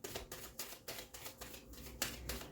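Tarot cards being shuffled and pulled, a crisp riffling and flicking in short bursts roughly every quarter to half second, close and fairly quiet with no talking.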